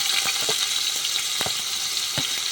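Onion gravy sizzles and fries steadily in hot oil in a pan for Patan-style shing bhujiya shaak, a close, continuous crackle with a few sharper pops and no voices.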